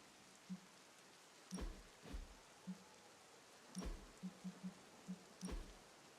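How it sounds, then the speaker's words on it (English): Steady rain in the video game Marvel's Midnight Suns hisses in the background, punctuated by scattered louder drips and a few dull low thuds, with no one talking. "Rain sound is in game."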